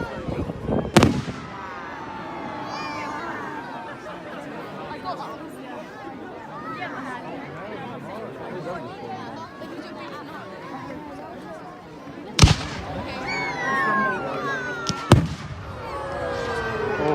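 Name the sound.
Bonfire Night fireworks exploding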